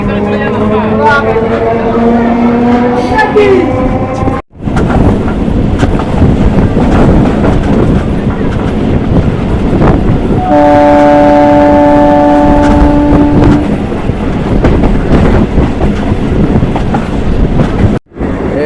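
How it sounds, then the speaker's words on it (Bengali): A train rumbles steadily, with a squealing brake tone as it slows into Bahira Kalibari station, voices talking intermittently over the noise. "এই জাস্ট আমাদের ট্রেনটা এখন ঢুকলো বহিরা কালীবাড়ি স্টেশনে"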